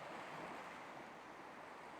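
Ocean surf washing on a shore, a steady broad hiss of breaking water with no distinct individual waves, soft and continuous, no voices.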